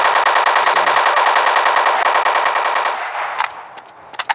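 Loud automatic gunfire rattles in a long, rapid burst while shooting zombies in the video game Flat Zombie, then breaks into a few isolated shots.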